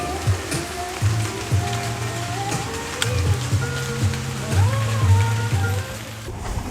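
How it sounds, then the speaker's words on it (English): Steady rain falls at night in Sri Lanka, a dense, continuous patter with low tonal hum from the surroundings underneath and no voices. "we're just chilling in the rain."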